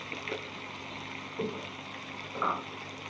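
Beef liver and potatoes fry in a pan while being stirred, giving a soft, low sizzle broken by a few light scraping and clinking strokes, fairly quiet and close.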